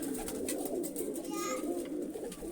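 Several pigeons coo softly and repeatedly in a bird loft, low murmuring calls rolling on continuously, faint and close, with a few higher chirps and light background noise.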